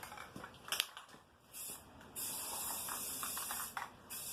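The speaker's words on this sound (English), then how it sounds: "You always want to make sure you spray your edges." Short hissing bursts of epoxy spray on a tray's edges, then a longer steady spray, close and fairly quiet, with small clicks between.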